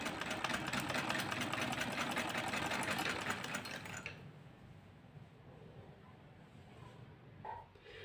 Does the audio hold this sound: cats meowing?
no